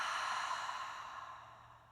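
A single long cleansing exhale in a yoga class, a breathy sigh that starts strong and slowly tapers off over about two seconds, close and alone with no talking.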